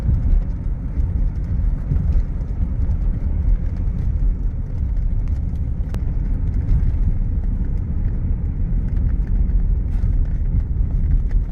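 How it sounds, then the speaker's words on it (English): Inside a moving 1985 Rolls Royce Silver Spur, a steady low rushing roar of wind noise on the driver's side fills the cabin, constant and fairly loud with road rumble beneath. "A little bit of wind noise here on the driver's side."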